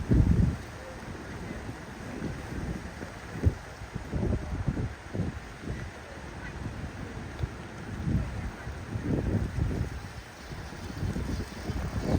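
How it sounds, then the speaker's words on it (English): Blustery wind buffets the microphone in irregular low rumbling gusts on a rainy, cold marathon course, steady throughout with no voices. "it's raining, it's windy, cold, wet, miserable"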